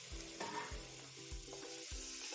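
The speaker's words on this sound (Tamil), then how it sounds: "அந்த பவுட்ரு கொஞ்சம் அந்த எண்ணெயில் ஃப்ரை ஆகிற மாதிரி இதை வதக்கிக்கிறேன்" Masala powder sautéing in hot oil while making gobi masala (cauliflower fry), a steady sizzle and frying crackle with repeated low thumps of a stirring utensil against the pan, close and moderately loud, with no voices.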